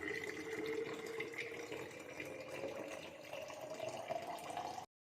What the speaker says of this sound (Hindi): बॉटल भर लेते हैं पानी की।